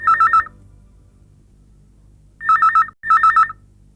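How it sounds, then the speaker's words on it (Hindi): A telephone rings loudly in trilling electronic bursts: one short ring, a pause, then two more rings in quick succession, clear and close with nothing else over it. "और फिर अचानक फोन की घंटी बज उठी।"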